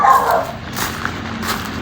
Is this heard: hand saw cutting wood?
no